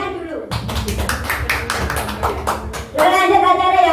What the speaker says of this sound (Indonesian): Benar, tepuk tangan dulu.